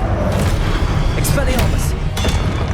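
A spell is cast in the Hogwarts Legacy video game, with booming magical blasts and sharp bright bursts going off repeatedly while a voice calls out over the effects.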